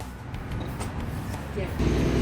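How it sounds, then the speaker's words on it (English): Road traffic rumbles past in a low, steady wash that grows louder toward the end, heard under nearby talking. "Watching the traffic."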